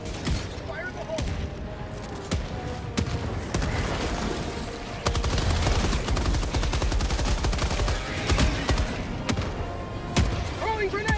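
Dense video game gunfire and a grenade blast from Helldivers 2, rapid loud bursts of shots and thumps running continuously with in-game voice callouts mixed in.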